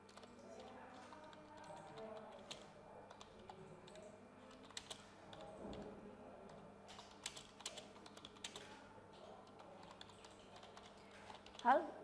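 Quiet, close keystrokes tap out a form title on a computer keyboard in scattered runs with pauses, a voice speaking faintly underneath, and a brief louder sound near the end.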